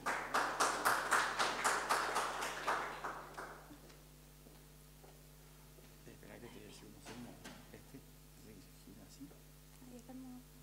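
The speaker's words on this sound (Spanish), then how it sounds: "Con el estrendoso aplauso del público." An audience bursts into loud, rhythmic clapping at a medical lecture on sleep-related breathing disorders. The applause lasts about three seconds, then fades into a quiet room with faint scattered noises.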